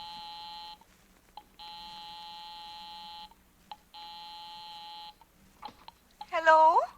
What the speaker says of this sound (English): I'll give 9B a ring first on the house phone